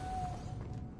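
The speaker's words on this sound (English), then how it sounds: "Making this spin ought to raise that platform." A spinning mechanism raising a platform in the Hogwarts Legacy video game gives a brief, faint mechanical creak with a thin sustained whine over a low hum.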